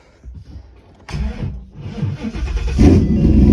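A turbocharged Gen 2 Coyote V8 car engine with a T6 turbo cranks and fires up, then settles into a rough, loud rumble that swells as it revs higher.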